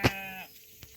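A single sheep bleats once, loud and close, a wavering cry lasting under half a second and followed by quiet, heard near an electric-wire fence corral.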